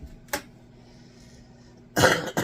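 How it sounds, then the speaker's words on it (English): Two dry coughs from a congested person in a quiet kitchen, a short single cough early on, then a longer, harsher burst after a pause, close and fairly loud. "I do apologize for the coughing and sniffling and stuff."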